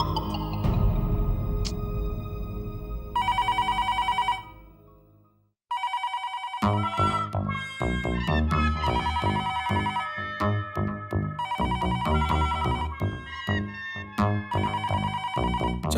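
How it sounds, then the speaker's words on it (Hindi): A telephone ringing in a Hindi TV comedy household scene: repeated loud electronic ringtone bursts with melodic tones, a brief pause near the middle, then a busier musical ringtone pattern continuing to the end, with no talk. "मैं घर पे फोन लगा रहा हूँ, घंटी भी बज रही है"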